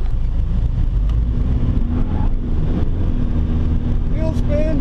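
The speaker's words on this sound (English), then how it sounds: "Wheel spin!" A 2000 Mitsubishi Delica L400 Exceed diesel van spins its wheels, giving a loud, steady engine drone with rising revs throughout, while people talk over it.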